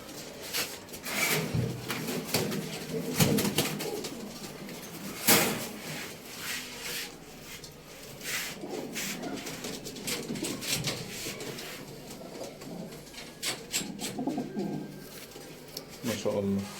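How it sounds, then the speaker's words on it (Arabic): A flock of Dalabir pigeons coos softly and intermittently, mixed with wooden knocks and rustling, under nearly continuous Arabic conversation between men. "الحمام ده نازل كله من عشه واحده."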